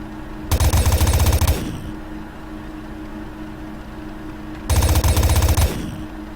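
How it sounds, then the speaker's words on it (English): Two bursts of rapid machine-gun fire from the video game Steambirds Alliance, each lasting a little over a second and separated by a few seconds of low background hum. "let's hear this machine gun"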